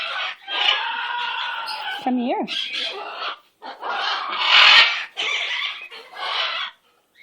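A pet bird with itchy feathers squawks and chatters loudly and close by in several bursts, with rising and falling whistled calls, while a person speaks to it softly in between.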